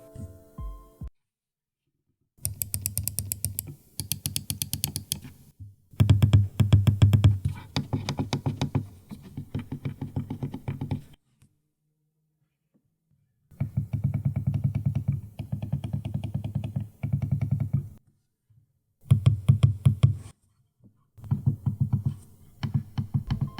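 Quiet clicks from a Logitech MX Master 3S mouse come in rapid bursts, several seconds of soft tapping each, separated by short stretches of silence.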